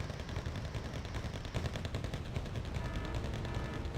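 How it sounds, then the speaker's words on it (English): An airstrike in Wargame: Red Dragon brings dense rapid gunfire and rattling impacts that run continuously for several seconds, loud and close, with no talk over them. "Oh, here come the first airstrike."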